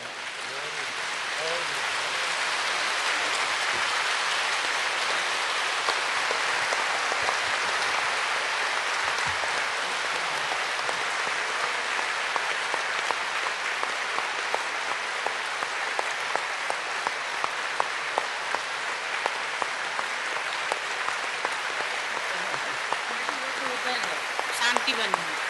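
A large gathering stands and claps for an elderly woman at a meeting, a long, steady, rain-like wash of applause from a big room that carries on for nearly half a minute, with faint voices occasionally under it.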